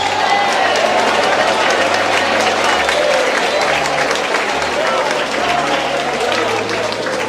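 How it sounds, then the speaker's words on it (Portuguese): A church congregation claps and praises during a worship service, dense continuous applause with voices calling out over it, steady and loud across the whole stretch. "Quero palmas misturado com glória a Deus."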